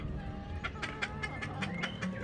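A miniature-breed rooster, one with a bad eye, in a backyard with several roosters, giving soft clucking and short throaty calls over a steady murmur of other birds and background noise.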